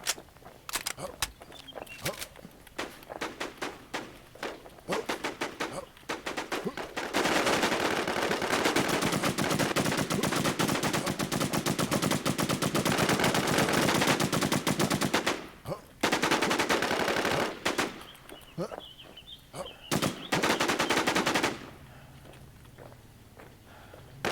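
Gunfire in the video game The Infestation comes as rapid, sustained automatic bursts, loud and close. Short gaps break up the shooting, with a long continuous stretch in the middle and sporadic single shots around it.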